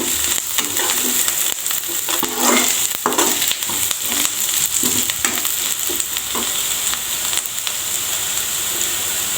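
Sliced onion with five or six crushed garlic cloves fries in a pan for an urali kaalu (horse gram) palya, a loud continuous sizzle broken by repeated scraping strokes of a stirring spoon.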